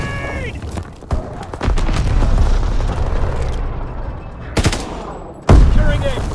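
A grenade detonates and rifles fire in a Call of Duty: WWII multiplayer Domination match on Shipment 1944, loud booming blasts and crackling gunfire layered over continuous battle noise, with brief in-game voice callouts.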